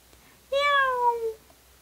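A single clear cat meow rises and then slides down over about a second, close and loud against a quiet background.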